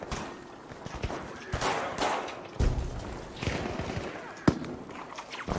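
Browning machine gun in Battlefield V firing inside underground tunnels, bursts of reverberant shots and thuds echoing at moderate distance amid busy game noise.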